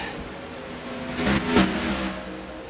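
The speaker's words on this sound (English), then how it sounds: "You guys have an idea of how many cars are going to be flying by? It just sounds so nice." Race car engines in the game Second Life whoosh past in quick succession, rising and fading briefly over a low, steady background drone.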